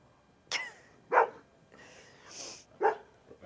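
Dogs in a garden give a few sharp separate barks and yips, fairly close and moderately loud, spaced over a few seconds with quiet gaps between.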